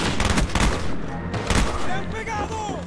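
G11 burst fire from Call of Duty: Black Ops: a few loud, close bursts of rapid shots with heavy echoing tails, overlapped by a voice and other game sounds.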